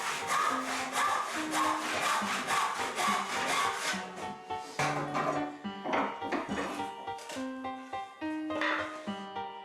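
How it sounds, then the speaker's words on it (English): A hand saw rips steadily along the grain of a short wood piece clamped in a vise for a small wall cupboard, with continuous, close, rhythmic rasping strokes that carry a ringing tonal squeal from the blade. "I'm ripping fairly close to the line, but allowing just enough over so that they can be planed down perfectly afterwards"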